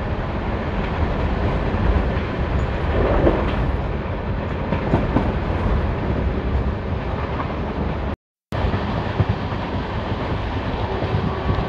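The Lalkuan–Howrah passenger train runs at full speed with a loud, continuous rumble and rattle of wheels and carriages, mixed with wind noise. A brief dropout occurs near the end.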